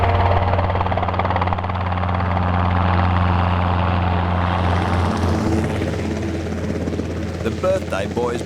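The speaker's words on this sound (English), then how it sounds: "You feel the weight of the chopper" A helicopter's steady, throbbing rotor and engine drone fills the whole clip, loud and close, with voices murmuring faintly underneath.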